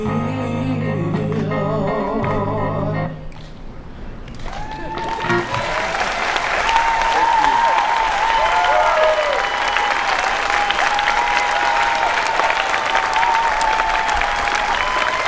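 A crowd at the Arlington Juneteenth celebration and peace rally breaks into loud, sustained applause with scattered whistles and cheers. It follows a few seconds of music and continues strongly to the end.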